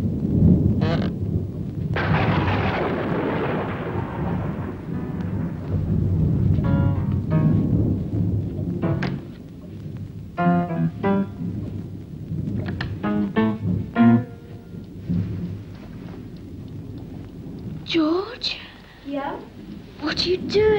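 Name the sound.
thunderstorm with rain, audio drama effect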